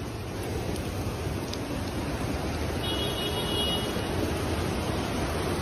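Floodwater rushes through a street in Cali, Colombia, making a steady, dense roaring wash that holds constant throughout with no talk over it.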